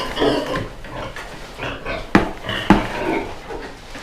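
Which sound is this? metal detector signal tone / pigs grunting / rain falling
pigs grunting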